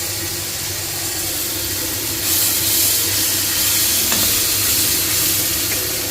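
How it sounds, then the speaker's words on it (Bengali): Ginger and garlic paste fries in a hot pan with a steady loud sizzle, which swells and brightens partway through as it is stirred. "অল্প একটু আদা বাটা অল্প একটু রসুন বাটা দিয়ে দিচ্ছি"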